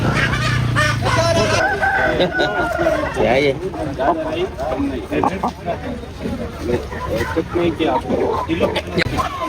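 Chickens cluck and squawk at a busy poultry market, with people talking loudly throughout and a low hum at the start.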